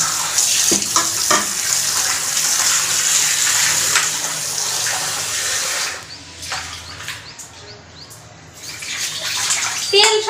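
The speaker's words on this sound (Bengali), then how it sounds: "এটা হলো লাস্ট ধোয়া চলতেছে, এর আগেও ধোয়া হয়ে গেছে একবার, এবার হলো লাস্ট।" Fish get a final rinse in a tub of water, a loud sloshing and splashing that runs continuously, eases off for a few seconds near the end, then surges again, with someone talking over it.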